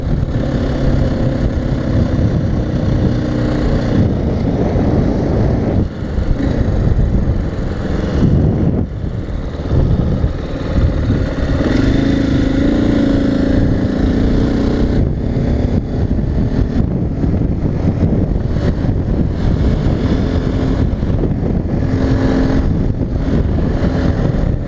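A 2015 Husqvarna FE 501s fuel-injected motorcycle engine running steadily close by, a loud continuous rumble with shifting throttle and a few dips in level, no talking.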